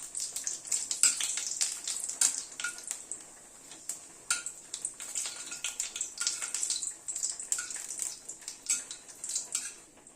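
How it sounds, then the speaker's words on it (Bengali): A dried red chilli, cumin seeds and a bay leaf splutter in hot oil over a lowered gas flame as tempering for winter vegetable khichdi. The close, continuous crackling sizzle is dotted with sharp pops, and no one speaks. "একটা শুকনো লঙ্কা, সাদা জিরে খানিকটা ফোড়ন দিলাম"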